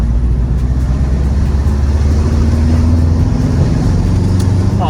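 A bugeye Subaru Impreza WRX with all-wheel drive accelerates in second gear, its engine a loud, steady, close drone with a slowly rising tone throughout.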